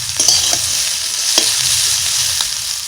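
Broccoli and chicken stir fry frying in a pan, a steady close sizzle with a few sharp scraping stirs of a spatula, continuous and fairly loud with no voices.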